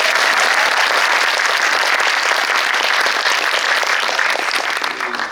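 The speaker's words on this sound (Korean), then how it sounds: "큰 박수 부탁드립니다" A film screening audience gives sustained, dense applause for a Q&A guest, loud and steady throughout and fading slightly at the end.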